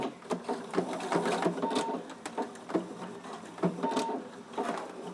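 A sewing machine runs a quarter-inch seam on a cloth face mask with a nose bar, its needle rattling in quick bursts separated by short pauses; close and clear, no voices.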